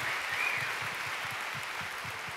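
Steady applause from a convention crowd fills the clip, a dense wash of clapping with no talking over it.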